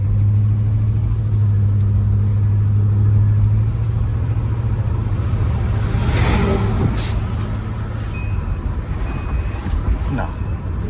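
A 1985 Chevrolet Monte Carlo SS at speed gives a steady, loud engine and road rumble with a constant low drone that eases slightly near the end, and faint voices underneath.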